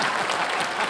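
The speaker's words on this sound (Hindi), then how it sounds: "भरत जी के लिए जोरदार तालियां।" Studio audience at a Hindi TV comedy show bursts into dense, continuous applause, loud and close throughout with no talking over it.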